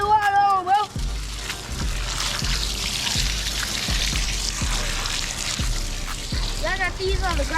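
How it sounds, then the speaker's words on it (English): Water runs steadily from a hose outdoors while preparing a crawfish boil, a continuous splashing wash with rhythmic thumps beneath, and people talk briefly at the start and end. "Turn the water on, bro."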